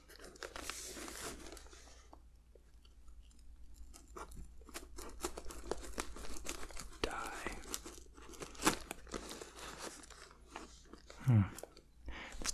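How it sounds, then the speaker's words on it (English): An old knife saws through stubborn packing tape on a box during an unboxing. Close, quiet scratchy slicing and tearing comes in irregular bursts with crinkly rustles, under soft intermittent talk. "Tape is very stubborn"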